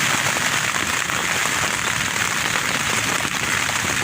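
Heavy spring storm rain in Ohio pours down in a loud, dense, unbroken hiss of drops hitting surfaces up close, with no voices.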